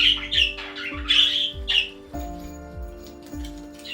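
Budgerigars squawking and chattering in the open part of an aviary, with shrill squawks and chirps in quick bursts over a steady low background hum.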